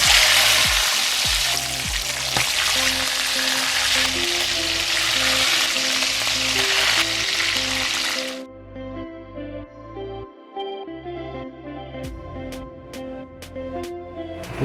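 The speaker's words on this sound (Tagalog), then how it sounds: "Iprituhin lang natin yan." Chicken pieces for Filipino adobo fry in cooking oil in a pot, a loud steady sizzle for about eight seconds that cuts off sharply, leaving quieter low crackling and a few faint clinks.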